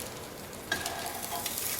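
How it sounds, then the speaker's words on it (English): Corn tortillas sizzle softly in a nonstick frying pan sprayed with canola oil, a quiet steady crackle with a few small pops, close up. "I'm heating up the corn tortillas in a nonstick frying pan"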